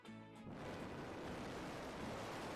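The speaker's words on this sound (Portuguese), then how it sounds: "Então esse ar viria todo para a orelha, né, e iria fazer esse barulho aí" Simulated rushing air, as a bird flying at high speed would hear it without the feathers covering its ears, sets in after a brief moment and becomes a loud, steady roar like strong wind.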